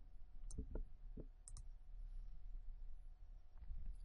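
A few quiet computer mouse clicks sound against a faint room hush, a couple of close light taps spread over a few seconds as the Update button is pressed.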